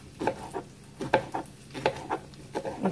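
Pork chops browning in a pan without added oil give off soft sizzling, broken by a rhythmic series of light clinks and scrapes from the pan and utensils, close and fairly quiet.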